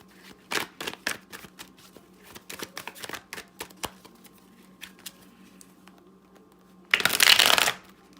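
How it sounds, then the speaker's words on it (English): Tarot cards being shuffled by hand in a quiet room: a run of crisp, irregular card flicks and taps, then a loud, dense riffle burst near the end. "That was a bad shuffle."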